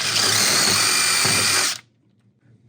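Power drill boring a second bolt hole for a servo mount on a skeleton prop, running loud and steady up close for nearly two seconds before cutting off into near silence.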